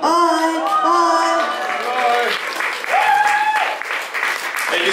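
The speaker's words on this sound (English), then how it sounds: "can we have a round of applause for this amazing Catherine Paver?" Audience applause fills the room at a live stage show, loud and steady throughout, with voices calling out and talking over the clapping.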